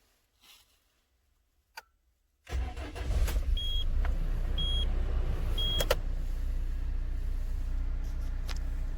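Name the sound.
car engine starting and running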